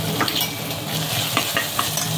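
Tomatoes sizzle in a hot pan for semiya rava upma while a utensil stirs and scrapes through them, a close, steady frying hiss broken by a few clicks, with no voices.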